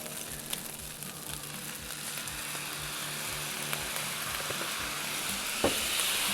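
Rice seasoned with smoked salt and ZingZang sizzles steadily in a hot pan, a continuous bright frying hiss with occasional soft scrapes of stirring and no talking.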